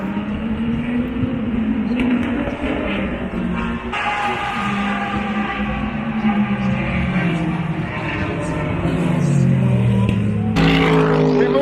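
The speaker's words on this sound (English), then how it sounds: "you can get right up on these cars as they're coming around the road course" Race cars roar past on the Daytona International Speedway road course during practice for the 2019 Rolex 24, with continuous loud engine drone, rising and falling pitch as cars pass, and a louder pass near the end.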